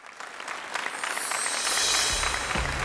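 Audience claps to welcome a woman entrepreneur guest on a stage show, the dense clapping building and swelling into loud sustained applause over a few seconds.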